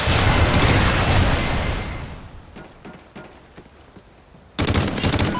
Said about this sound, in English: Friendly rocket strike inbound.